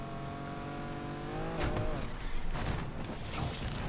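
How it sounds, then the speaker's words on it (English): An Acura RSX-S with a big turbo in Need for Speed Unbound revs up, then breaks into a short micro drift with a brief tire scrub, followed by a rougher, louder engine roar that carries to the end. "We did a little micro drift"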